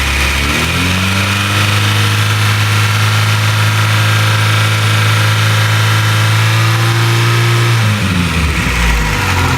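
Close by, a 1996 Acura Integra engine, freshly fitted with a new head gasket, idles loudly and steadily with a slightly rough hum. Near the end it dips briefly before settling.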